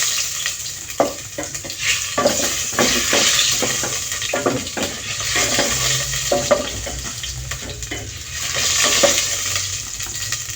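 Ginger sizzles as it sautés in a pan for Filipino lugaw, rice porridge, with a steady frying hiss and intermittent clinks and scrapes of a utensil stirring nearby.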